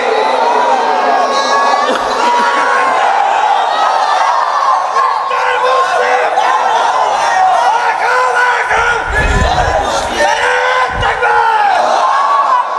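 A large crowd at an outdoor religious sermon roars a loud, sustained takbir chant, many voices shouting together without a break.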